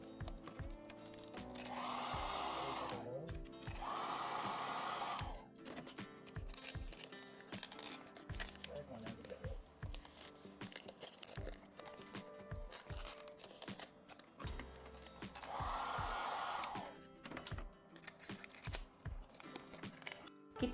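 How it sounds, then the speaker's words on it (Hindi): A handheld hair dryer blows in bursts of a couple of seconds each to loosen and peel a label, with crinkling and tearing of the label between bursts; no talking. "1-2 सेकंड के लिए केवल आपको ड्रायर चलाना है"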